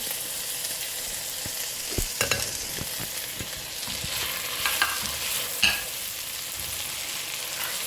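Beef masala boti sizzles steadily in a pan while a spoon stirs it, with several sharp scrapes and clinks against the metal spread across the clip; no voices.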